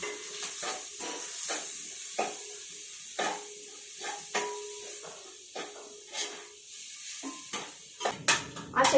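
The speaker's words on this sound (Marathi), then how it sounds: "आता याच्यामध्ये जे खोबऱ्याचा जो चव आहे ना तो याच्यामध्ये आपण परतून घेणार आहोत." Grated coconut being sautéed in a pan over low heat gives a soft sizzle with repeated scraping stirs of a spatula, quiet and fairly regular, busier toward the end.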